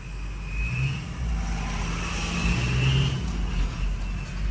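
A 6.0 Powerstroke diesel truck fitted with a 67mm VGT turbo pulls away under acceleration, a steady low engine drone rising gradually with a faint turbo whistle above it, moderately close.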